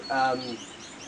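One short bird call rings out among aviary flights holding greenfinches and other birds, with a faint chirp trailing after it.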